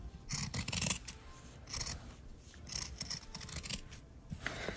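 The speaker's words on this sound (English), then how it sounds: "For some people have a hard time cutting the straight line, I suggest you to get the scissor." Scissors cutting material for a DIY wallet, several crisp snipping and rasping strokes in quick clusters, close and quiet against near silence.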